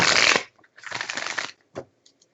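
Two close riffle shuffles of a deck of cards, each a crisp fluttering burst, followed by a few light taps as the cards settle.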